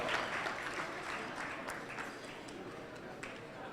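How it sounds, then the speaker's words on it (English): Applause for hotel staff at a charity soiree ripples through a ballroom crowd, fairly faint and distant, a broad continuous patter that thins gradually toward the end. "Big round of applause to all the Ritz employees here helping out"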